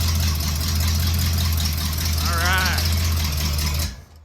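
A car engine fired up for the first time runs steadily at idle with a constant low hum, loud and close, then cuts off abruptly near the end; a brief whistling tone rises and falls midway.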